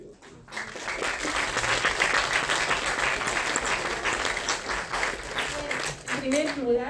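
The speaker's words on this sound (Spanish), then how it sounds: "Bien, creo que se merece un aplauso más cerrado," Seminar audience on breastfeeding applauding, a dense, sustained round of clapping lasting several seconds before fading near the end as a voice begins to speak.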